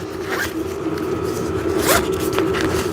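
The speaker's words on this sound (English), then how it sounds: "this is where you have your zipper compartment" A zipper is pulled open and shut on the compartment of a ballast bag for a T-shaped backdrop stand, with short scratchy zips that ride over a steady hum of background noise.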